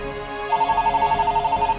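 A telephone rings loudly and close by, a rapid trilling bell repeated in even pulses for more than a second with nothing else over it.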